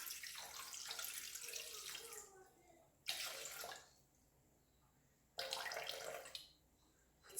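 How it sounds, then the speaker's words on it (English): Water from a tap is poured in three separate bursts onto kitchen scales, each a bright splashing rush lasting under a second or so, separated by quiet pauses, close and moderately loud. "while I pour in the water"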